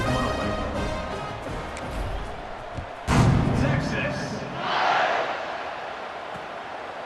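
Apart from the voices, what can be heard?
stadium crowd cheering before kickoff in EA Sports College Football 26 video game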